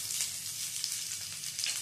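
Onion petals fry lightly in a pan for a healthy corn gravy Manchurian, giving a steady close sizzle with soft crackling throughout and no voices.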